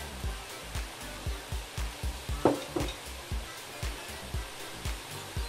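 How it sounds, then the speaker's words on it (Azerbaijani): Chopped vegetables, peppers, garlic and potatoes fry in a pot for Azerbaijani cabbage borscht, giving a steady close sizzle with regular soft thumps of stirring. "Yenidən qovururuq."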